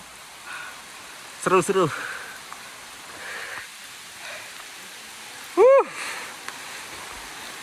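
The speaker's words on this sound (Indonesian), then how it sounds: "ini hujannya deras" Heavy rain falls during a trek on a steep mountain trail at Gunung Halimun Ciputri, a faint steady hiss running throughout beneath brief bursts of people talking.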